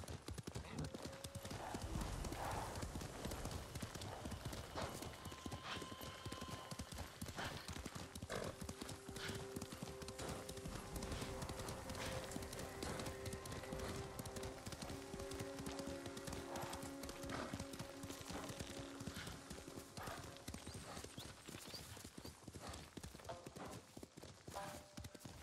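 A horse gallops through a forest in the Ghost of Tsushima video game, its steady clip-clop of hooves loud and continuous over game music, with an occasional whinny.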